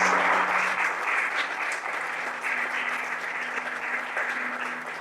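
A church congregation breaks into loud, sustained applause, a dense steady wash of clapping that continues through the whole stretch with no talking over it.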